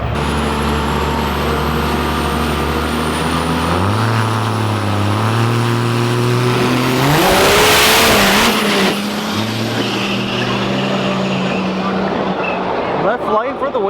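Pro Mod drag race cars thunder down the strip at a truck drag event, engine drones climbing in stepped gear changes to a loud peak near the finish, then a second car's roar follows while an announcer talks over the noise.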